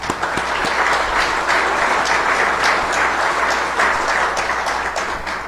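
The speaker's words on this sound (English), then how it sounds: "So let's give all of you a round of applause for what you've done." An audience at a downtown partnership's annual meeting gives a round of applause, with steady, dense clapping that carries at an even level throughout without dying away.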